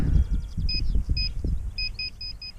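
A metal detector in a farm field emits a series of short, clear electronic beeps in quick pairs, over low rumbling ground noise and handling thumps.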